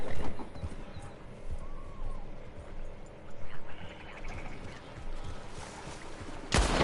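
A horse trots with steady clip-clop hoofbeats in the open-world game Red Dead, with faint ambient wildlife underneath and a sudden sharp crack at the end.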